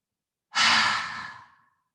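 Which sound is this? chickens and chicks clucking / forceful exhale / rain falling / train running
forceful exhale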